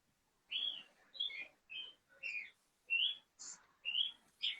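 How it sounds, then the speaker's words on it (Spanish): Small birds chirp in quick repeated bursts, about nine clear high tweets in an uneven rhythm, fairly close and alone over a quiet background. "a los pajaritos que suenan detrás tuyo les encanta el sonido del agua cayendo"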